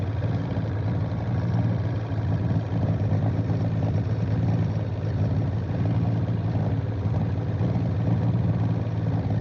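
A 75 horsepower outboard boat motor running while trolling for pike, a steady, loud low drone and hum that continues unbroken throughout, with no talking.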